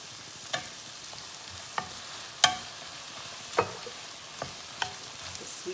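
Shrimp fried rice being stir-fried in a pan, with a faint steady sizzle under a handful of sharp scrapes and clanks of a utensil against the pan, spaced irregularly and fairly close.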